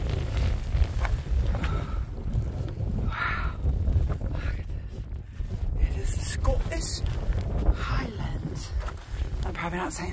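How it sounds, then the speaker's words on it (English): Strong, gusty wind on the West Highland Way in Scotland, between Drymen and Balmaha, buffets the microphone with a steady low roar, while a person speaks intermittently over it. "this would be a great place to have a sailboat because it's so windy"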